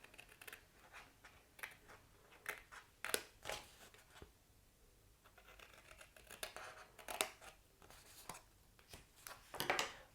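Scissors snip through paper for a hexagonal album, slicing slightly on the diagonal: a series of quiet, crisp cuts in irregular bursts, close by with no talking.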